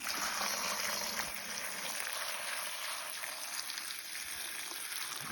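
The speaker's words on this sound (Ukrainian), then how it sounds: "Сюди виливаю і заливаємо все водичкою. Заливаємо, щоб весь чесник покрився." Water is poured steadily over garlic cloves in a container, a close continuous splashing rush that eases slightly toward the end, without talking.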